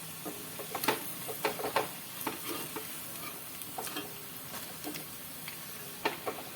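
Moong dal vadas frying in hot oil give a constant sizzle, with scattered ticks and clinks as the pieces are stirred and flipped with a utensil.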